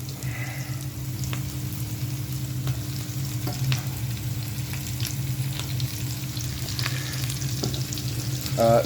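Vegetables frying in coconut oil in a pan, a close, constant sizzle with scattered sharp pops and crackles over a low steady hum.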